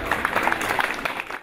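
Applause rises at a school's 121st anniversary ceremony in Deveselu, a short burst of many hands clapping from an audience in a hall, steady and fairly loud.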